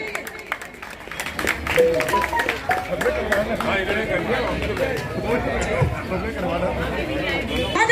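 Crowd at a Shahdara assembly-constituency election rally for an independent candidate claps and cheers in a dense, continuous wash, with loud chatter throughout and no single voice standing out.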